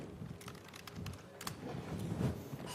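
Typing on a computer keyboard during a programming lecture, a run of quick, light, irregular key clicks, close and fairly quiet, with no talk over it.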